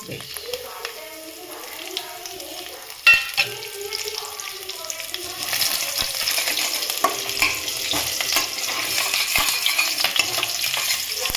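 Black cumin and garlic fry in hot oil for a pabda fish jhal, a steady sizzle that swells louder and more crackly halfway through, with murmuring voices in the background early on.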